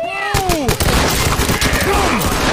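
A breaching shotgun fires in a cop-themed video game, loud sharp blasts over a dense mix of other game gunfire and effects, with voices talking over the action.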